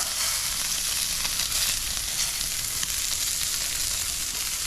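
Scallop skewers sizzle loudly and steadily in a hot pan, a constant crackling hiss with small pops throughout.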